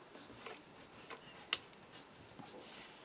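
Paper card is cut with scissors at a craft table: quiet, close scratchy snips and rustles, with one sharper crisp cut standing out, all faint and with no talking.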